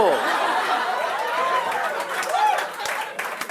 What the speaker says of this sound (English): You're clapping like I'm saying the right thing.